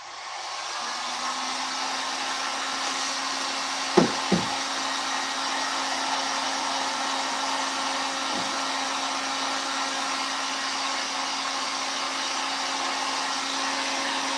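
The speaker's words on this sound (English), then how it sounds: "this heat gun doesn't sound like a blow dryer just going in the background" A heat gun blows with a steady, loud whooshing whine and a constant hum while warming holster material, broken briefly by a couple of close clicks early on.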